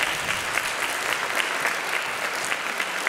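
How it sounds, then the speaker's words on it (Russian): Applause fills a hall at a concert for veterans by an arts college, a dense, steady wash of clapping from the audience lasting the full few seconds without pause. "Спасибо вам за ваши теплые аплодисменты."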